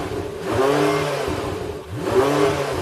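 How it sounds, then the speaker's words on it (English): A Porsche's naturally aspirated V8 engine revs twice in quick succession, each time rising sharply and falling away, loud and fairly close. "revving up the naturally aspirated V8 in the Porsche"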